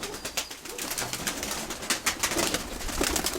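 Young pigeons in an upper loft coo softly in repeated low, throaty phrases close by, with faint rustling and no voices.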